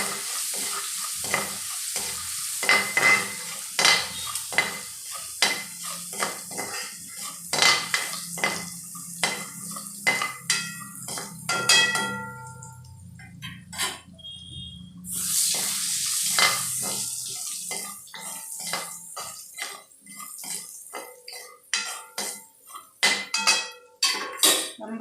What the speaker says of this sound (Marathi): मीठ मिरची छान परतवून घ्यायची.